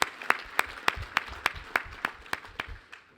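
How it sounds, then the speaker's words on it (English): Sparse, rhythmic clapping at a Martin Luther King Jr. breakfast event, single sharp claps at a steady beat, loud and close, tapering at the end. "Give her a round of applause."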